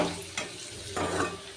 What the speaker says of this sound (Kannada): ಇದನ್ನು ನೀಟಾಗಿ ಎಣ್ಣೆಯಲ್ಲಿ ಫ್ರೈ ಮಾಡ್ಕೋಬೇಕು.